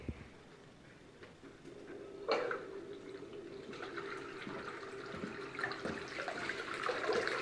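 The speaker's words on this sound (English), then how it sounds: "you can see how that water's coming down" Water running steadily through a new gold dredge outdoors, a continuous wash of flowing water that builds slightly louder midway, with a sharper splash near the middle and no talking.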